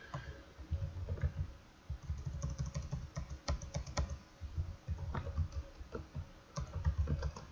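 Code is typed on a computer keyboard at close range. Quick, uneven bursts of clicking keys come with short pauses between them, and no one speaks.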